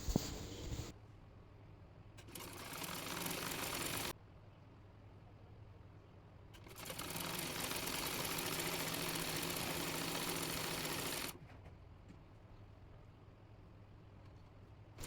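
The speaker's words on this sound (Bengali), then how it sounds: "এরপর বাকি নিচের অংশের সঙ্গে এই লেসটি সেলাই করে নেব।" Sewing machine stitching lace onto the lower part of a palazzo salwar, its motor whirring in two steady bursts of a few seconds each, separated by quieter pauses, with no talk.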